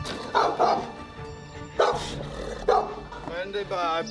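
Dogs bark behind glass in England in loud bursts, a few barks at a time with pauses, sounding slightly muffled, while a person speaks in between.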